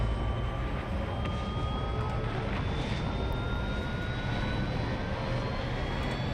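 Spaceship engines hum and whine steadily in the space game Star Citizen, an even, aircraft-like roar with a slowly rising tonal whine over a broad rumbling bed, continuous throughout and without talk.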